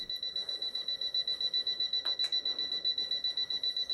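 An alarm clock beeps rapidly and continuously in steady pulses, moderately loud, with faint room noise beneath it and no talking.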